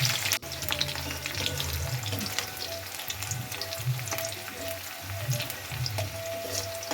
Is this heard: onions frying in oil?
yes